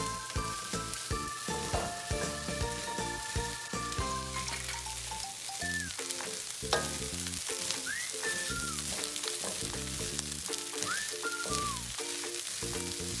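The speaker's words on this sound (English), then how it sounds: "Cook the green beans and carrots for about 5 minutes. Remember to constantly stir the fried rice." Fried rice with green beans and carrots crackles steadily in a hot pan, a continuous sizzle with scraping stirs, heard over background music that runs throughout.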